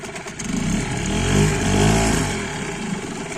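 A Mercury 5 two-stroke outboard boat motor runs close by with a buzzy, throbbing drone that swells in revs and then settles back to a steady run.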